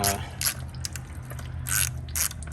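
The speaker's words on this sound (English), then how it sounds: "We'll pull these little bolts out" A ratchet works small 8mm bolts loose on a Chevrolet 4T40E automatic transmission from a 2.2-litre car, giving close, quick bursts of metallic clicking separated by brief pauses.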